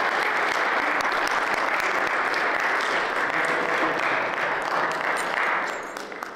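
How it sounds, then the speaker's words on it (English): A crowd claps continuously in dense, even applause that fades slightly near the end. "Clap your hands."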